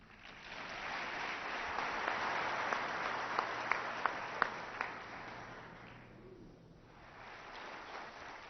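A hall audience claps to welcome a morning speaker at a sales talk, a dense and steady round of applause that swells, then fades away over several seconds.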